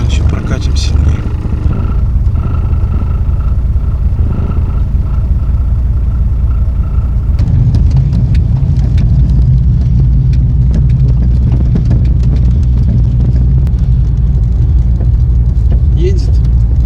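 An old car engine idling and then driving: a loud, continuous low rumble with a faint steady hum, while someone talks over it throughout.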